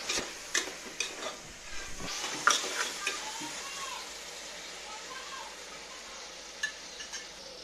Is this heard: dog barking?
no